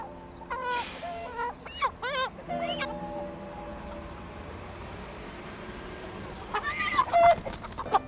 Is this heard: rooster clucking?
yes